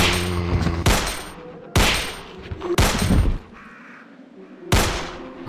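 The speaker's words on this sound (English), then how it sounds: "We gotta shoot him, guys." Four loud single gunshots ring out in a Resident Evil 2 fan-made first-person shooter remake, spaced about a second apart with brief ambient game noise between them and no talking.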